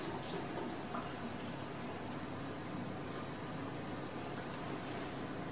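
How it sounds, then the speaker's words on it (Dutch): Tap water running steadily from a kitchen faucet while pepper seeds are rinsed off a finger after roasting bell peppers, a constant, soft, even rush with no voices. "wat wel werkt, is dat je gewoon je vinger onder de kraan houdt"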